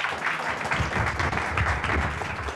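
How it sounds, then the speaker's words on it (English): Applause from a conference audience welcoming a product-design speaker to the stage, a steady dense wash of clapping held at an even level throughout. "let's give him a big, big round of applause"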